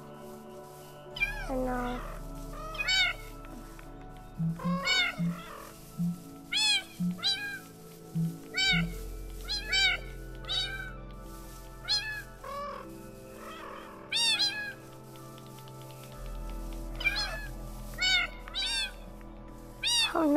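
Tiny kittens in Minecraft mew repeatedly in short, high, rising calls scattered throughout, close and clear, while people chat and coo softly underneath.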